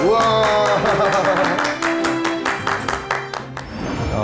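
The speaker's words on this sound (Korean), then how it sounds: "큰 박수 부탁드립니다." A studio audience on a Korean lecture show claps to welcome a guest speaker. Crisp, fairly regular claps ring out over a held musical tone and fade slightly toward the end.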